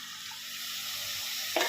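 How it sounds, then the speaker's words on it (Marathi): Water poured into a pan of frying masala gives a steady hissing sizzle with a soft splash of added liquid, a sharper burst near the end; close and moderately loud, no talking. "त्यात अगदी थोडंसं पाणी ॲड करायचं आहे आणि थोडा मसाला शिजवून घ्यायचा आहे"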